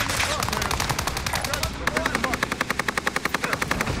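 Rapid automatic gunfire in a military shooter game, a steady string of sharp shots that starts dense and turns into an evenly spaced rapid burst, loud and close.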